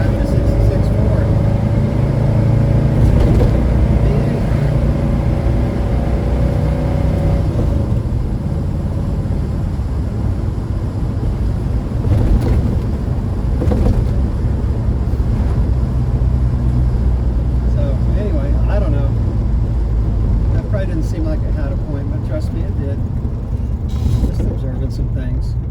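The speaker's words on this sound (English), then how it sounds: "Heck, I'm driving a 66 Ford." A 1966 Ford car drives along with a steady low road and engine rumble, continuous and fairly loud throughout, with a person talking over it.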